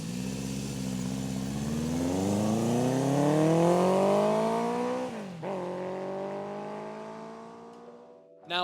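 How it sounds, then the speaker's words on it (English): A 50+ year old Honda 736cc inline-four motorcycle engine revs up in a rising smooth whine, peaks, drops back and settles into a loud close idle with a brief blip at the end. "It is a 736cc powered motor, inline 4."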